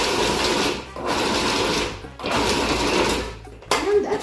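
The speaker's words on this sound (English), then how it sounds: "So we're just gonna pulse." A food processor pulses beef for steak tartare, loud close whirring bursts of about a second each separated by brief pauses, with a voice faintly under the motor.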